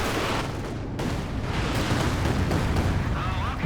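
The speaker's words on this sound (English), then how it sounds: "I'll get Vet 2 with his next volley of rockets" Rocket volley explosions in the video game Company of Heroes 2 boom and rumble in dense overlapping blasts, continuous and loud across the whole stretch.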